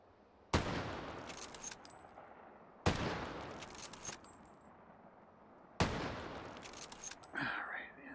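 Mosin rifle firing in the VR shooter Hot Dogs, Horseshoes & Hand Grenades: three loud, sharp gunshots spaced a few seconds apart, each with a long echoing tail, plus faint metallic handling between shots.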